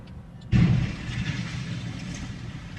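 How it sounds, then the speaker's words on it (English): A train bears down on a semi truck stuck on a railroad crossing; a sudden loud, heavy rumble bursts in after a brief lull and then rolls on steadily and close. "that train kept on coming."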